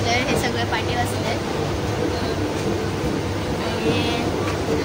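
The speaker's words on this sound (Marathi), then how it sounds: "आम्ही आता ट्रेनमध्ये बसलोय." Steady rumble inside a moving Mumbai-area local train out of Panvel, a continuous loud low drone of wheels and carriage with passengers talking over it.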